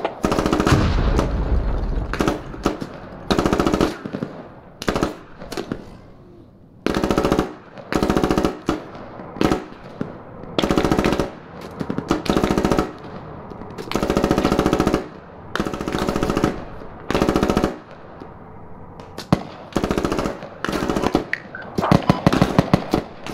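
Gunfire from the video game Squad: repeated bursts of automatic weapon fire, loud and close, alternating with short gaps and scattered single shots, with denser rapid shooting toward the end.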